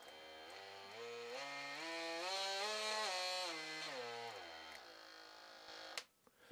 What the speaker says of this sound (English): if I turn it on, you'll hear the pitch change for the different speeds that you can use